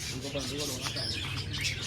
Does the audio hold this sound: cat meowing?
no